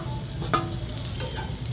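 Ginger and a few garlic cloves fry in hot oil with dried coconut in a pan, a close, steady sizzle with light stirring scrapes, no voices.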